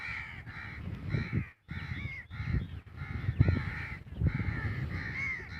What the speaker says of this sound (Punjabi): ਕਿੱਕਰ ਦੇ ਉੱਤੇ ਕਿੰਨਾ ਕਾਂ ਬੈਠਾ ਵਾ।